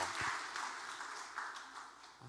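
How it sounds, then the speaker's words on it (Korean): Applause in a church service welcoming children, a soft, steady patter of clapping from a congregation lasting a couple of seconds, moderately distant. "네, 박수로 환영합니다."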